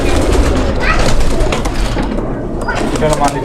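Close, loud cooing from Pakistani high-flying pigeons in their loft rolls on steadily while a person talks over the birds.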